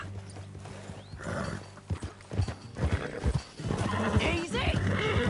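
A horse in Red Dead Redemption 2 clip-clops along at a ride with a whinny, hoofbeats close and rhythmic under occasional talk.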